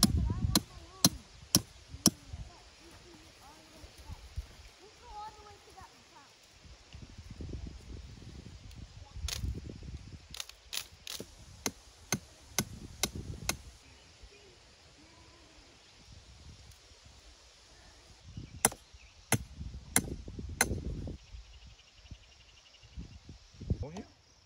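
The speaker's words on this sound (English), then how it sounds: "So I'm gonna hammer this first peg in down, and then as we go along, we'll kind of hammer them down to level everything out." Garden trellis pegs are hammered into the ground outdoors in sharp bursts of several quick metallic strikes separated by quieter pauses, with insects chirring and leaves rustling in the background.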